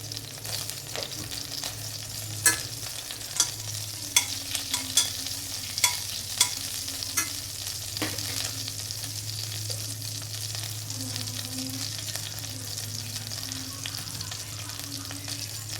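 Fennel and cumin seeds frying with cinnamon, ginger and cardamom for biryani, a continuous crackling sizzle with occasional spoon clicks against the pan, no talking.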